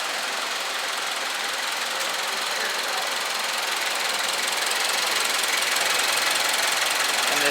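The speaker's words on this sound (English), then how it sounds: "This is the upgraded FA24 engine, which replaced the FA20 from the previous gen" A 2024 Toyota GR86 Trueno Edition with the FA24 engine runs a dyno pull, giving a dense, loud, continuous roar that builds slightly in intensity over several seconds with no talking.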